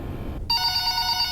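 Telephone ringing inside the FNAF video game: a steady electronic bell trill kicks in after a brief silence and carries on without a break over a low background rumble.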